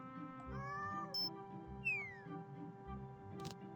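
A cat meows several times, fairly faint and close, with short rising and falling calls over a quiet hum.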